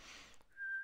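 A single sustained whistled tone in The Inner World adventure game, rising clear after a brief softer hiss, close and alone.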